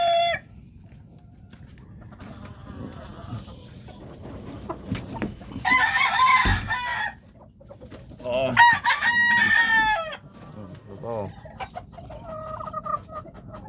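Chickens cluck on and off throughout, with a rooster crowing loudly a couple of times in the middle, close by and with a faint background hum.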